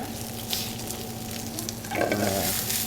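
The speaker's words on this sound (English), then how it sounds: "Saute these for about 10 seconds. Nice little heat on it, nice coating." Mushrooms and onion sautéing in a hot pan, a continuous soft sizzle that grows a little louder and brighter near the end, with no talking.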